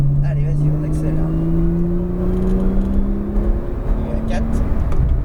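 Porsche 911 Turbo S accelerating on a circuit, its engine note rising steadily from inside the car with a whirring drone, under an instructor's voice speaking at intervals.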